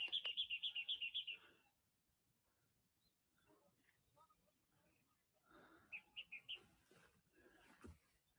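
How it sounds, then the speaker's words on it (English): Birds chirp on a sunny day in a flower-selling fishing village, a rapid run of bright repeated tweets at the start, then quieter scattered calls and a second short burst of chirps near the end. "Yes, birds are chirping."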